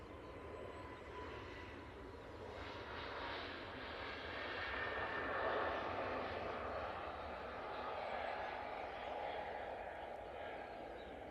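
An easyJet airliner departing Manchester Airport makes a faint, distant engine rumble that swells gently toward the middle and eases off, steady and without speech.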